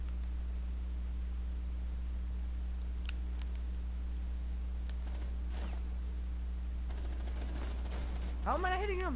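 Gunfire in the video game Rainbow Six Siege comes as scattered sharp bursts and clicks through a steady low game hum, building into a denser volley near the end, with a voice heard briefly over it.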